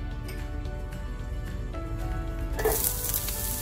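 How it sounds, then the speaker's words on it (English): Green chilies drop into hot oil in a pan on the stove, a soft background crackle bursting into a loud, bright sizzle near the end, close and without talk. "we're going to start first by throwing in the green chilies"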